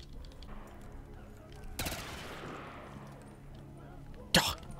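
Dual pistols firing in Black Ops 3 custom Zombies, a burst of gunfire followed by a decaying rumble and another sharp close shot near the end, with faint game noise between.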